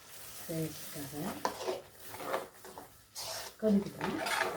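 Crab gravy bubbles and is stirred in a pan, making soft scraping and sizzling sounds that come and go in short bursts, with a voice heard briefly in between.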